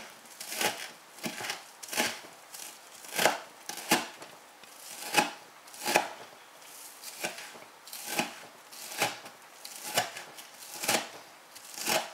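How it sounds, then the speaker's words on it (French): Knife strokes chop frozen parsley into small slices on a board, a steady rhythm of about a dozen crisp, close cuts with no talking. "On va aussi découper en petites tranches."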